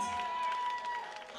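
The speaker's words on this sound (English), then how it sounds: "give Mr. Wow a round of applause for his efforts tonight" An audience at a dancehall contest applauding a contestant, a short burst of crowd clapping and cheering at moderate distance that fades slightly toward the end.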